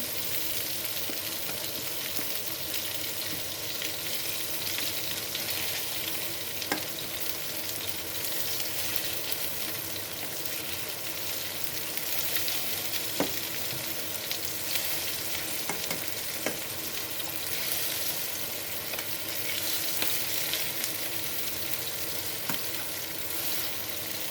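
Frikadellen meatballs sizzle steadily in hot oil in a pan, giving off a continuous close frying hiss with occasional small pops and no talking.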